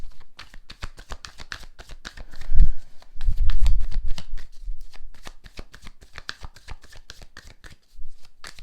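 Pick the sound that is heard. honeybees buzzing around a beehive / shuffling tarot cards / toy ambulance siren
shuffling tarot cards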